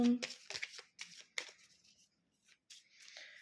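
Playing cards are shuffled during a solo round of the board game Forêt mixte, with quick riffling bursts and brief pauses, heard close and fairly quiet.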